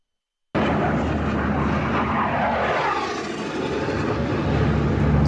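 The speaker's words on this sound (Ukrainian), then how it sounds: "Над головою літаки. Уявляєте, літають. Винищувачі." Fighter jets flying overhead in a war zone near a burning vehicle, a loud continuous jet roar that rises and sweeps across, with the rumble swelling toward the end and no talking.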